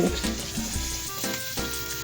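Fish frying in a pan for soup, a loud steady sizzle with a tonal hum running beneath it.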